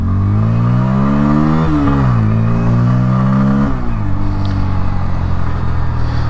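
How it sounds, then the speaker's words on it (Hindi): A 2024 Bajaj Pulsar N160 motorcycle revving up in first gear through rising pitch, easing off and climbing again, a loud close exhaust note with a rough throaty rumble. "इधर हम लोग थोड़ा बाइक को भगा कर देखेंगे। बाइक अभी है फर्स्ट गियर में।"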